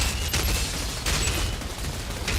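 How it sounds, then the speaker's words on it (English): In the Outriders video game, a barrage of bullets strikes a raised shield with a metallic twang. Dense, continuous gunfire impacts sound close and loud throughout, with a few sharper cracks standing out. "as the bullets are hitting me and my shield's up, it's got more of a metallic twang to it"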